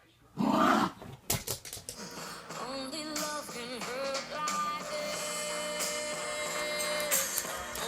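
A dog growls in a loud burst near the start, then a dense, steady mix of background sounds carries on through the rest.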